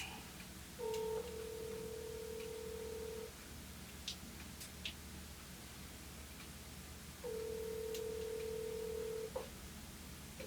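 A call placed on speakerphone gives two long, steady ringing tones separated by a pause, over faint line hiss.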